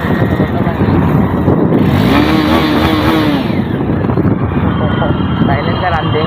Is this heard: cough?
no